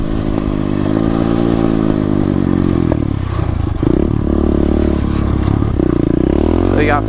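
A 2016 SSR 125 pit bike engine runs loud and steady during a ride, its buzzing tone holding and then dipping and rising again with shifts and throttle, with some clatter and wind noise mixed in.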